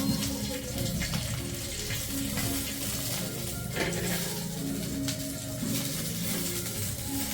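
Curry leaves fry in a pan with a steady, dense sizzle that holds through the whole stretch, fairly soft and even, with faint background noise.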